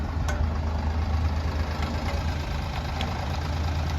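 Low steady rumble of a tractor engine running during wheat sowing, continuous and moderately distant, with a few faint clicks and no talking.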